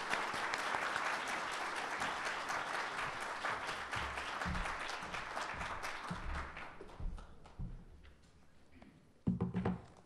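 An audience at a university Black History Month kickoff event applauds in a steady wash of clapping that slowly fades, with a few louder claps and stray sounds near the end.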